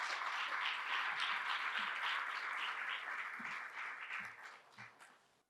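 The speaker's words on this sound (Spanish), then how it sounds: "un fuerte aplauso para él" Strong audience applause for a speaker invited onto the stage at a conference talk on pandemic modelling, a dense steady clapping that holds, then thins and fades out toward the end.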